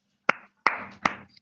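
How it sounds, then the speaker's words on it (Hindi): Four sharp, separate claps at a Christian intercession prayer service, each ringing out briefly in a reverberant room, far too sparse to sound like an audience applauding loudly. "आइए हम एक ऊंची ताली देते हैं।"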